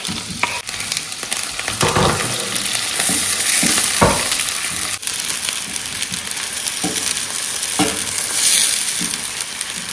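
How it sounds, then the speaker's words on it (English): Onion dropped into a hot pot for dawadawa shea butter jollof fries with a loud, continuous sizzle. Repeated stirring knocks and scrapes break through the frying noise, and there is no talk. "Go in with our onion."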